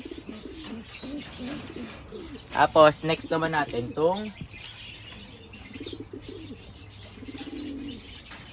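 Racing pigeons coo and chirp close by while someone talks over them, with a brief flurry of wing flaps in the middle.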